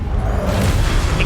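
A Confringo explosive spell in the video game Hogwarts Legacy produces a dense, steady rush of blast noise that fills the whole moment. It is loud and close, with no voices.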